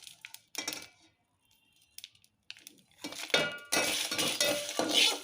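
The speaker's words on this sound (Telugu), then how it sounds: "లో ఫ్లేమ్లో పెట్టుకొని ఇవి ఫ్రై అవ్వాలి. ఇవి వేయించుకోవాలండి" Whole spices being dry roasted in a pan over a low flame, heard as scattered dry rattles and clinks at first, then a denser, louder clattering of spices shaken and stirred against the metal pan.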